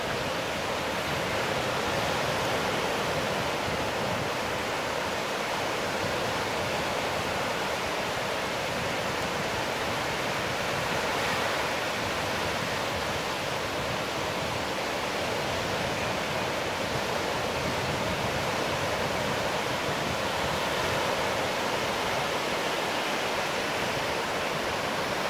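Ocean surf rolling in at the Cocoa Beach pier, a steady broadband wash of breaking waves that stays loud and continuous without pause, with no voices over it.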